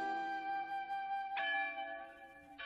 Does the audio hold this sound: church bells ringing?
yes